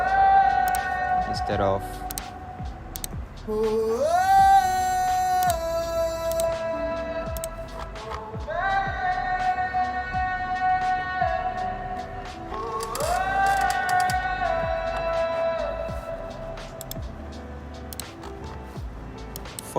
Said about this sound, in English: I put the EQ into telephone effects, so it sounds like this